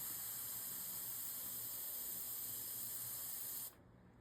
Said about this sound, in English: Let's test it over here where I spray some color down.